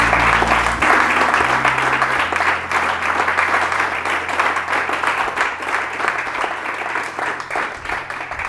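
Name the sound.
congregation applauding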